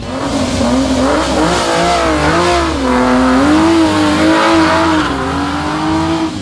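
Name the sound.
classic cars racing at the Geelong Revival motoring festival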